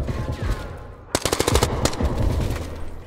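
Rapid automatic gunfire from the police tactical shooter game Zero Hour: a loud, close burst of roughly a dozen sharp shots in quick succession, rising abruptly out of low ambient rumble and then fading back into it.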